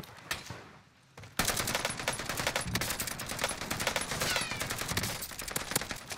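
Dense, sustained automatic gunfire in the Call of Duty game on Rebirth Island, rapid bursts of shots running almost continuously after a brief lull near the start, loud and close.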